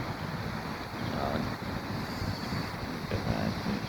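Wind and ocean surf at Pennington Beach, a steady broadband roar of waves and wind buffeting the microphone throughout.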